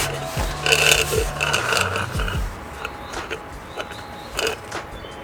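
A hand transfer pump forces differential fluid into the fill hole of an Infiniti's rear differential, giving a series of close creaking, squelching strokes that taper into fainter, irregular squeaks.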